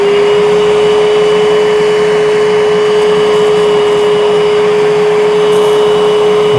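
Bissell SpotBot pet spot cleaner running with its hose tool, a loud steady motor whine and airflow roar with a constant pitched tone, unchanging and close throughout.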